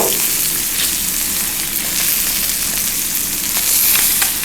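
Salmon fillet frying in a hot pan with melting lemon dill butter, giving a loud, continuous crackling sizzle close up with bright spattering pops and no voices.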